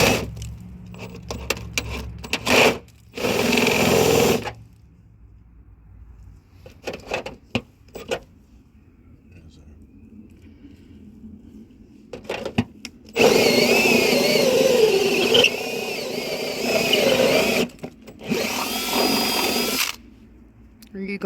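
Power drill boring through a wooden rim joist during a gas line installation, heard in several loud bursts of whining motor and chewing bit, with stretches of quiet and brief speech between them.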